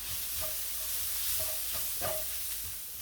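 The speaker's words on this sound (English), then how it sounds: "I'll throw in the ginger and the garlic. We don't want this to burn, so stir this around." Ginger and garlic sizzle steadily in a pan while being stirred, a soft continuous frying hiss broken by a few light scraping clicks of the utensil.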